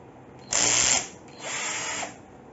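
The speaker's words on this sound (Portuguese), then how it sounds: "Agora nós vamos, com o auxílio da parafusadeira, eu vou tirar aqui essa fã aqui de trás." Electric screwdriver backing out the screws of a rear fan on a desktop PC, two whirring bursts up close, the first higher and louder, the second longer and lower, with no voices.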